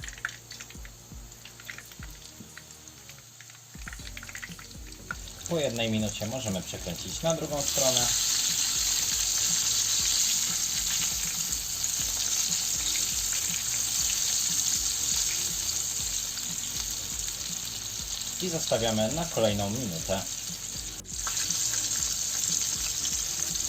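Chicken strips sizzle and crackle in hot oil with a steady frying hiss, while a person talks briefly over it.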